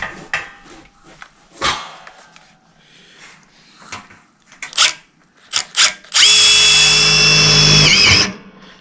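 A screw gun drives a screw into a drywall metal rail, one loud motor whirr lasting about two seconds near the end, preceded by scattered clanks, taps and handling knocks.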